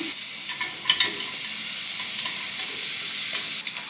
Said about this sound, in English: Whole onion going in. Start to cook that.